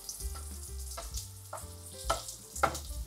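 Hotdogs sizzling in a pan, a quiet continuous fry under a low hum, with a few louder scrapes and stirring knocks near the end and no voices.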